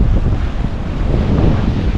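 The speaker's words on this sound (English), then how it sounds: "Waves coming in, look at that." Heavy surf pounds at North Jetty on Humboldt Bay in stormy weather, a loud unbroken roar of breaking waves blended with gusting wind close on the microphone.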